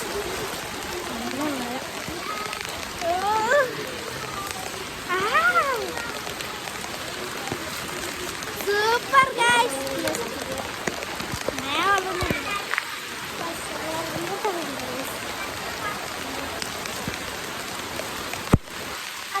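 Heavy rain falls steadily and loudly on the surroundings outdoors, a continuous hiss under people talking and laughing nearby.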